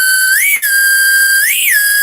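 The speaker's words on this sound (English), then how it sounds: "The whistle pop." A whistle pop candy whistle blown loudly and close, giving a shrill sustained tone that swoops upward and back down twice.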